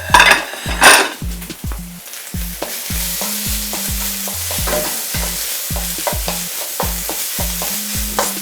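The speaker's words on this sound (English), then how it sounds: "Stir meat." Beef being stirred as it fries in a pot for beef stew with rice, heard as a steady close sizzle broken by rhythmic scrapes and clanks of a utensil against the pot.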